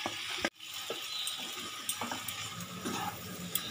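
Fried okra tossed into a pan with prawns and stirred, a sharp thump of food landing followed by steady sizzling and scraping stirs, close and moderately loud with no talking.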